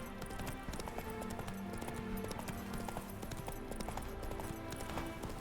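Roach, Geralt's horse in The Witcher 3 video game, running at a fast gallop, dense rhythmic hoof clip-clops pounding continuously and loudly over a droning background of game sound.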